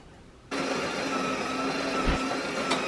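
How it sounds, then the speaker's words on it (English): A coffee machine starts brewing a second coffee indoors, kicking in abruptly after half a second of quiet and running as a steady whirring hum with a faint tone, close by and alone. "Just while the coffee's doing its thing"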